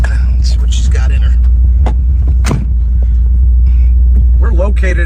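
A 1975 Ford Gran Torino at an outdoor car show gives a deep, steady engine rumble close by, with people talking over it.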